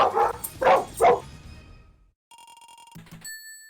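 Dogs bark in a quick run of three loud, close barks, followed by a brief silence and then a few beeping electronic tones.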